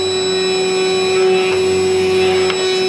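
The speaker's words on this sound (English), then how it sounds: "you can hear the grinding noise that's happening" Grinding noise from a control line stunt model airplane propeller: a loud, continuous whirring drone with steady tonal whine and slight swells, close to the listener, with no voices.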